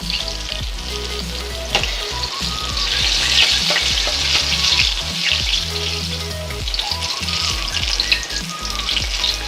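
Eggplant frying in hot oil for a curry, with a steady loud sizzle and crackle, plus occasional clinks and scrapes of stirring close by.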